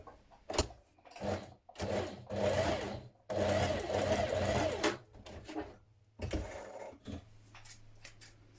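A sewing machine stitching a shirt seam for a New Look 6197 shirt. It runs in short, close bursts of rapid mechanical stitching, with brief pauses and soft handling noises between runs.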